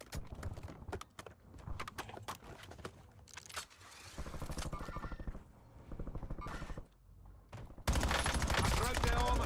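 Gunfire in the Black Ops 7 video game crackles in rapid bursts and sustained volleys, loud and dense, mixed with game sound effects and some voice chatter.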